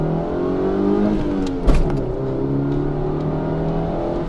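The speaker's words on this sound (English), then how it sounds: "Let's do a quick acceleration test." Car accelerating hard through the gears with a steady rising engine drone, close and loud, a brief shift bump near the middle, fitted with Magnecor KV85 ignition leads.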